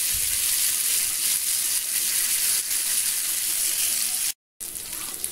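Fish fries on a dosa tawa with a steady, close hiss and crackle of hot oil, continuous throughout apart from a brief silent cut near the end.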